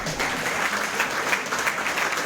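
An audience at a Sardinian election presentation bursts into continuous applause, a dense, steady clatter of many hands that stays loud and uniform for the whole moment.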